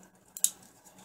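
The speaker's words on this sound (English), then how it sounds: "Let me hack this cup apart real quick." Two quick, close snips of scissors, the second sharper, cutting through a thin plastic cup in an otherwise quiet room.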